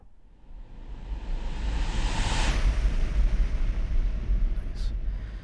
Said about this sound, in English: let's do a rocket ship